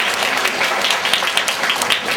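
An audience breaks into dense, steady applause that fills the whole stretch at an even, fairly loud level, with no voices over it.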